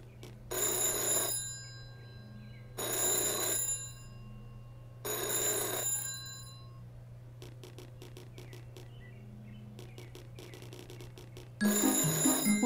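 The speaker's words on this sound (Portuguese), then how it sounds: "O telefone está tocando" A cartoon telephone in Peppa Pig's house rings in three bright, evenly spaced bursts over a soft hum, followed by a run of light ticking clicks and a final louder burst at the end.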